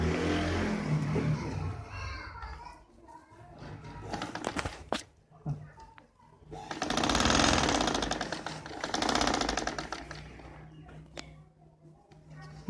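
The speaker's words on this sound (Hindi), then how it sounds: "अगर आपकी मशीन सिलाई मशीन जो है सिलाई सही ना करती हो तो देखें।" A faulty sewing machine being repaired at home whirs and rattles in bursts, speeding up and slowing, with a person talking in Hindi in between runs.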